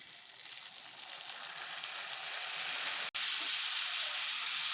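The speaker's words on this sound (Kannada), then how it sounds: "ಈಗ ಇದೆಲ್ಲ ಸ್ವಲ್ಪ ಕೆಂಪು ಹುರ್ಕೊಳ್ಳೋಣ" Chopped onions and tomato sizzle steadily in a hot pan, a continuous close crackle that holds at an even level, broken once by a split-second cut.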